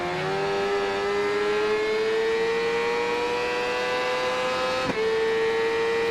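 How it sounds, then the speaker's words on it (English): Supersport 600 racing motorcycle engine in the video game RIDE 3, a steady high-pitched whine that climbs slowly as it holds revs, with a brief break and gear change near the end, loud and continuous with no talk. "you can hear that bike just behind"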